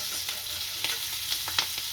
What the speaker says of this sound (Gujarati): આની અંદર મરચાં નાખીશું. મરચાં સારા શેકાવી લઈશું.